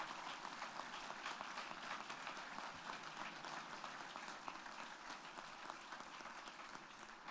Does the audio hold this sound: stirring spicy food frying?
no